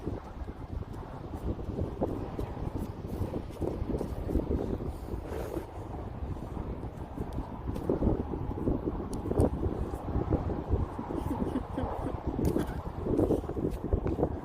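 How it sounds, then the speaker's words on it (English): Wind blowing outdoors at a horse training session, a steady roaring rush buffeting the microphone throughout and swelling louder toward the end. "Is it bad right now? It's windy."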